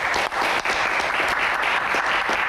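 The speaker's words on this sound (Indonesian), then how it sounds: "tepuk tangan buat mereka berdua" Dense, loud audience applause at a live Q&A event, continuous crowd clapping filling the space without a break.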